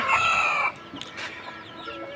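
A rooster crows loudly and close by for under a second on a small native chicken farm, followed by softer background clucking and farmyard noise.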